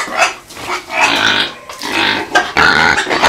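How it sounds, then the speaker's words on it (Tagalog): A small pig on a farm squeals loudly and repeatedly in harsh, rising bursts, close and shrill with short gaps between cries. "Grabe yung ingay nitong malit na baboy."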